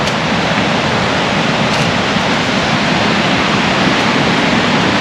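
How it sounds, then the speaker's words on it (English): Targa Falls, a horseshoe-shaped waterfall, pours in a constant, loud, broadband rush with no breaks or voices. "Targa Falls is a horseshoe-shaped waterfall"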